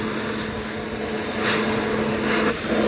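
A pressure washer sprays an HVAC condenser coil with a loud, steady hiss and roar of water spray close by, swelling slightly as the spray shifts across the fins.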